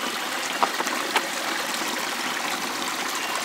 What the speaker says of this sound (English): Now we're gonna take from the stream where it's nice and clear here.